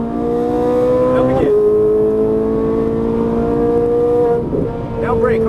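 A 560 hp Ferrari 458 Italia on a race track holds a loud, sustained high engine wail, with two clear pitch drops at upshifts and a voice faintly audible underneath.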